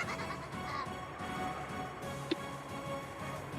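A goat monster bleats in the Umineko When They Cry visual novel, a drawn-out wavering bleat over a soft steady background with faint ticking, with a brief sharp click partway through.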